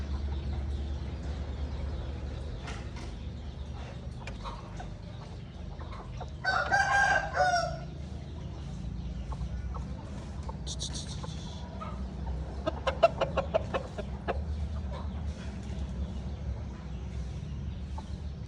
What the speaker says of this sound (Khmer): ចង់បង្ហាញស្ទាវ ចែកជូនបងប្អូន